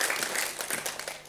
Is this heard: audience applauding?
yes